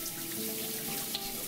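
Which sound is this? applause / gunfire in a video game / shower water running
shower water running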